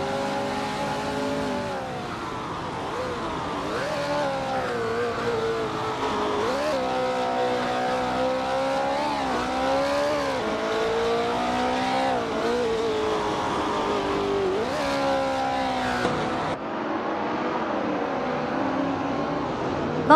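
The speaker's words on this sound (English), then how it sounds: "The competition is tightening up as these cars jockey for position." Racing cars in a video game race, including a 1968 Porsche 909 Bergspider, roar loudly and continuously. Engine pitch climbs and drops with repeated gear shifts, with no talking.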